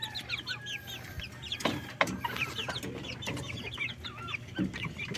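Young Shamo Japanese game chickens, about three months old, cluck and chirp continuously at close range, with overlapping high calls and a few louder knocks and rustles.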